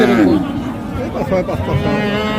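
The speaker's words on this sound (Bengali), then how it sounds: "এপাশে আরও কিছু বাছুর আছে বকনা বাছুর" Friesian cross heifer calves and cattle at a busy village livestock market, with low bovine calls and lowing close by under a steady murmur of crowd chatter and nearby voices.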